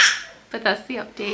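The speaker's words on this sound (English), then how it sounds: "He heard our neighbor's dog bark." A neighbor's dog barks several times, short sharp yaps at a moderate distance, partly overlapping a person talking nearby.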